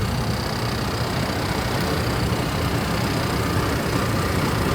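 A Ford Ranger 4x4 with a 2.3-liter four-cylinder engine runs rough, giving a continuous loud low rumbling idle with a coarse, uneven texture, heard close up with no talking.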